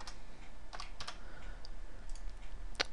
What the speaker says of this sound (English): So we're just going to type read.